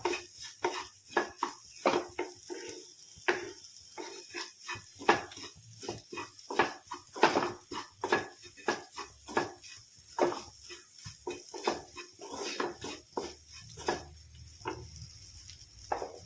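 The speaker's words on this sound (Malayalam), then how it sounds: "ഇത് ഇതുപോലെ നന്നായിട്ട് ഇളക്കാം നമ്മൾ മിക്സ് ചെയ്യുക നന്നായിട്ട്" A spoon scrapes and clinks steadily against a pan while scrambled egg is stirred together with onion masala, giving close, rhythmic stirring and tapping strokes over a faint sizzle.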